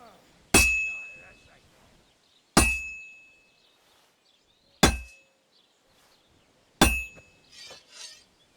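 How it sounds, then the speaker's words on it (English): A hammer strikes a sword at a blacksmith's forge in Kingdom Come: Deliverance 2, four sharp metallic clangs spaced about two seconds apart, each ringing briefly and fading, with quiet gaps and soft faint sounds between. "Now take the hammer and try hitting it a few times."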